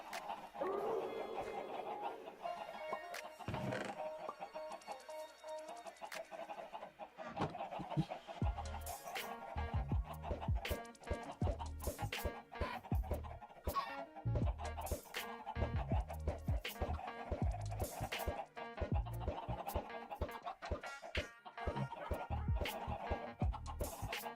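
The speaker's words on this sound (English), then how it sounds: "four chickens." Chickens in the video game Minecraft cluck in short, repeated bursts over a busy mix of game sounds and rhythmic clicking, the clucks fairly close but fairly quiet.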